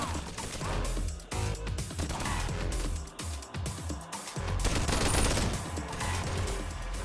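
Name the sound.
turrets firing in Bonelab mod, video game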